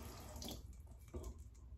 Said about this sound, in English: I'll put a little bit more water on that brush.